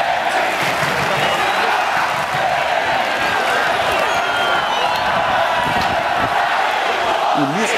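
Ceará football fans roar together with coach Lisca, a dense, constant crowd din of chanting and shouting that stays loud and unbroken throughout, with voices blending into one mass.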